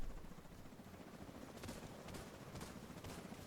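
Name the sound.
helicopter in the video game Division 2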